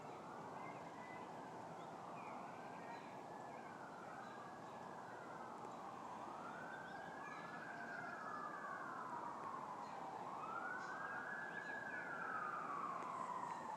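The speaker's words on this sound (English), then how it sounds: "now I'm starting to hear more sirens" Several emergency sirens wail from a distance, their rising and falling tones overlapping steadily and growing a little louder toward the end.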